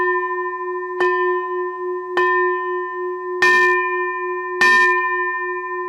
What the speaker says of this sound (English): we end now by ringing the bell of invincibility for every nation and for every individual on earth